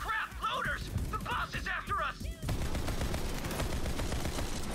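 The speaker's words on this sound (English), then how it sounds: "I'm shooting you for reasons." Gunfire in the Borderlands 3 shooter game rattles as sustained rapid bursts in the second half, dense and loud, preceded by someone talking.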